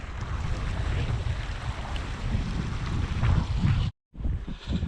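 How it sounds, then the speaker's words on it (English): Strong wind gusting across an open arable field on a farm, a steady loud broadband roar with buffeting against the microphone and a brief dropout near the end. "I don't know what you can hear because it's wind"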